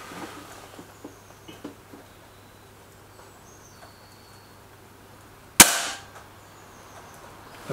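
Stoeger RX20 air rifle firing a single sharp, loud crack about midway through an otherwise quiet outdoor stretch, with a short decaying tail after the shot and faint small ticks beforehand.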